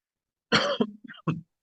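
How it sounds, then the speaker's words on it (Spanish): A few sharp coughs close by during an online class, a harsh burst followed by two shorter hacks, with nothing else around them. "ya saben que voy a estar tosiendo durante la clase"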